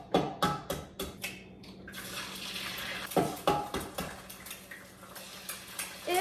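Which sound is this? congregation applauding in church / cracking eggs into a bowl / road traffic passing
cracking eggs into a bowl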